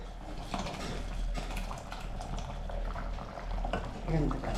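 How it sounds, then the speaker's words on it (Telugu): A pot of horse gram soup (ulava charu) boils steadily, with a close, continuous bubbling and gurgling that swells slightly toward the end. "ఇంకా కాసేపు మరగనిద్దాము."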